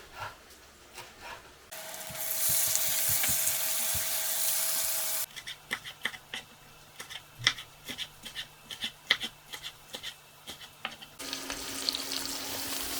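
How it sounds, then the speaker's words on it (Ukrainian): Onion sizzles steadily in a hot pan, interrupted by spells of stirring and clinking utensils, with the frying hiss returning near the end. "Цибуля ще продовжує смажитись до румяності."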